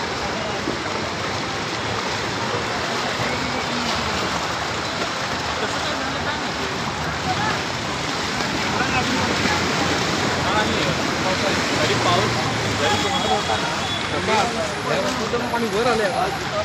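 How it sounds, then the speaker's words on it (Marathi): Floodwater rushes through waterlogged streets during heavy rain in Virar, a broad, steady roaring wash that stays loud and continuous with no breaks. "आज पाणी एकदम फ्लोमध्ये समुद्राच्या लाटासहित वेग घेत आहे"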